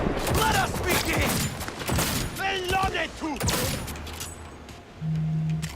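Rapid bursts of gunfire in the video game Cyberpunk 2077, dense volleys and single shots overlapping lively talk, with a steady low electronic hum surfacing near the end.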